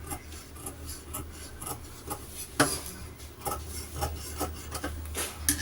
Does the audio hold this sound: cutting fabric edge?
yes